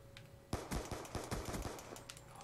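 A rapid string of gunshots from a weapon in a shooter video game, about a dozen sharp close reports in quick succession after a brief quiet start.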